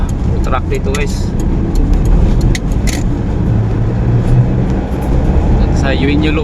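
Trucks and road traffic pass along a busy avenue in Tondo, Manila, a steady loud roadway rumble with engines surging by, and a person talks over it.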